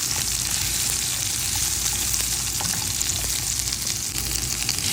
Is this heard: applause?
no